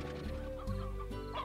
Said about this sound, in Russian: Куриц здесь полно.